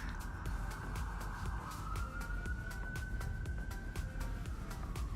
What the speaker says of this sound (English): can you hear my sirens? That is a major UK city.